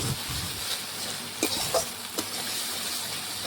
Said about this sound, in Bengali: মশলা আমি বেশ কিছুক্ষণ সময় নিয়ে ভালোভাবে কষিয়ে নিয়েছি